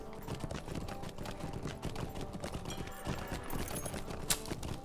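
Horse hooves clip-clopping in a steady, rapid rhythm as a mount is ridden across open ground in the online game The Lord of the Rings Online, close and continuous, with other game sounds layered beneath.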